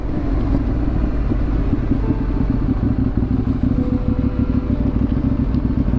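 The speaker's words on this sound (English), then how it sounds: "Oh, a little bit of green laning on the KTM." A KTM motorcycle rides green lanes in the Derbyshire countryside, its engine a loud, steady rumble with clattering over rough ground, heard up close without a break.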